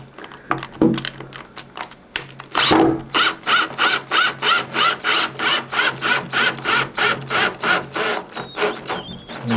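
A power drill with a Phillips bit drives a screw into a wooden bed post in a steady series of short, rapid whirring bursts, close by and fairly loud, with no one talking.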